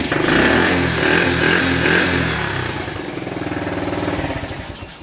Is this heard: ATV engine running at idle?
yes